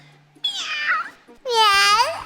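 A voice imitates a cat, giving two drawn-out meows, the second louder and more tonal, close to the listener.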